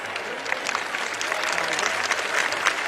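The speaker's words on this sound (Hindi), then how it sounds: "आपकी ताली दो वजह से हो सकती है, बच्चों की तारीफ में" Audience applauding at a Shri Siddhbali Baba annual religious festival gathering, a steady dense wash of many hands clapping that holds evenly for a few seconds with crowd murmur mixed in.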